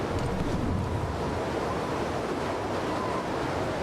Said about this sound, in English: Oh, it's windy, but it's not blizzardy anymore.